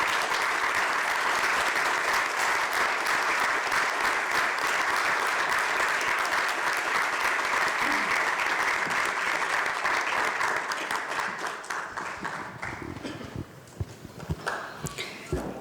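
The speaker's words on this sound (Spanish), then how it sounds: "Únicamente para festejar al profe Temo les pido un fuerte aplauso a la memoria del profe Artemio." Sustained, loud applause from a room of legislators during an ordinary legislative session, many hands clapping steadily for about twelve seconds before thinning out and trailing off into scattered claps.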